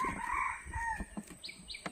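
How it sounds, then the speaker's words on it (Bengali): A wild junglefowl crows in a leafy forest, a drawn-out call with a fainter second crow and scattered bird chirps at the end. "এই জঙ্গলের ভেতরে কিন্তু বন মোরগ ডাকছে"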